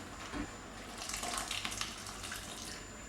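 Tap water running into a pan of sausage, kale and sage risotto, a faint steady pour and gentle splashing lasting a few seconds, close but quiet.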